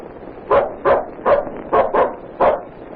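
A dog barks six times in a 1935 radio drama, short sharp woofs in an uneven rhythm, close and clear against a faint background hiss.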